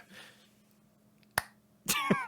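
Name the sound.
a little clap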